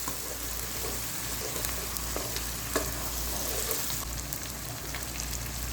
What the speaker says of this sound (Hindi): ये सारा काम मैं तेज आंच पे कर रही हूँ। गोश्त फ्राई करने से क्या होगा